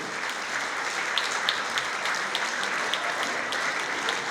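An audience claps steadily at a trio concert, a dense patter of many hands at moderate distance that holds even throughout.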